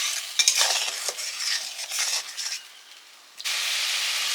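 Spice paste for a mustard-poppy fish curry is fried and stirred with water in a pan, producing a close, bright hiss and sizzle with scraping strokes that dip briefly before a steady sizzle resumes.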